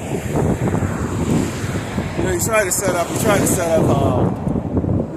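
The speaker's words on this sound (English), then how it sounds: "this place is windy every day" Strong wind gusts buffet the microphone at an outdoor street preaching spot in El Paso, Texas, roaring continuously under a man's speech.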